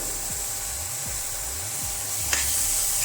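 Coriander powder and garam masala go into a pan of nutri sabji frying on the stove, under a steady close sizzle with a few slow scraping stirs and a faint tap near the end.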